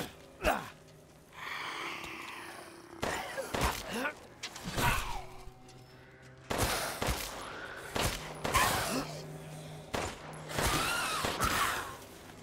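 Gunshots in Resident Evil Village inside a wine cellar: a handful of sharp, loud single shots fire at irregular intervals, each trailing a metallic ring, with quieter mechanical handling and breathing sounds in between.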